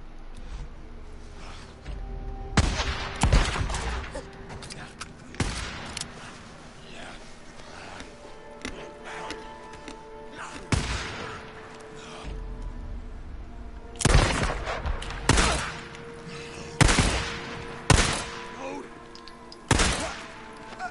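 Gunfire in the video game Days Gone: repeated sharp, loud shots and short bursts at irregular intervals, with someone talking between them.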